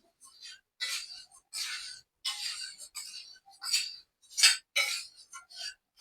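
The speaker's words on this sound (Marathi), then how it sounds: "शेवया व्यवस्थित मिक्स करून घ्यायच्या आहेत." Vermicelli upma being stirred in a pan on the stove, giving repeated short scraping and clinking strokes of a utensil against the pan in uneven bursts, fairly close and clear, with no talking.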